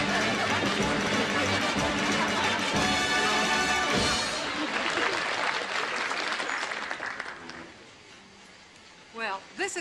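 Studio audience applauding on a 1960 television variety show, a loud, dense wash of clapping that carries for several seconds, then thins and fades out, with talk and a few laughs coming through near the end.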